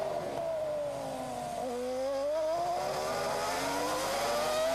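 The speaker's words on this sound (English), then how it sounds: "You can hear the traction control working on the engine. That sound as if the engine's misfiring, but that's all programmed in to increase the traction" Toyota Formula One car from 2002 at the Canadian Grand Prix, engine note dipping then rising as it leaves the hairpin, with a rough stuttering misfire-like edge from traction control; a loud, steady whine throughout.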